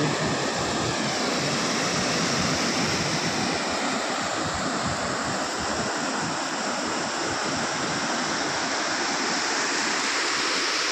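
Loud, steady roar of a rain-swollen river pouring continuously through open weir gates, filling the whole clip without pause.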